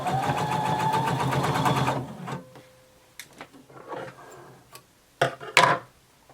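A sewing machine runs a seam across the bottom of a bodice at 5/8-inch allowance, a rapid even whirring for about two seconds, then stops, followed by faint handling clicks and taps.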